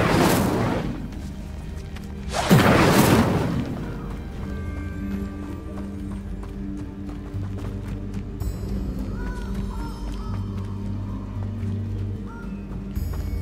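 Incendio fire spell cast in Hogwarts Legacy, two loud whooshing bursts near the start, followed by quieter ambient game sounds and music.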